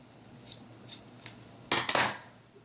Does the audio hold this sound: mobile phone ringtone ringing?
no